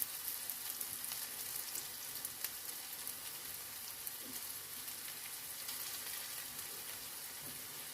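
Wet lentil burger mix shaped into patties in a hot pan gives a steady, soft sizzle and crackle of frying throughout, close and even, with no one talking.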